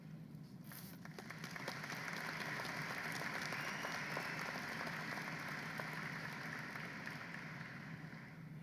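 Graduates and guests applaud across a large hall at a university undergraduate commencement ceremony, a broad sustained roar of many hands that swells after a second and holds steady, distant and even.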